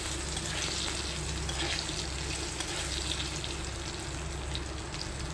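Cut potatoes frying in a pan of hot oil, giving a steady, dense sizzle that runs evenly throughout with no talking.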